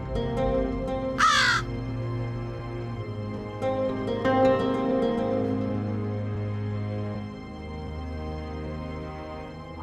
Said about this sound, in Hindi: हमारे दरबार के भीतर पक्षी आ गए, कौवे आ गए